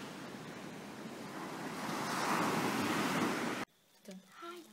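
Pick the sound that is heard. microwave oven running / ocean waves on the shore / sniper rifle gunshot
ocean waves on the shore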